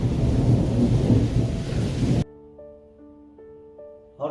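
Heavy rain and a loud rolling rumble of thunder fill the first half, then cut off abruptly to quiet tonal music.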